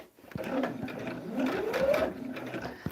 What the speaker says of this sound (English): let's go ahead and just sew down that line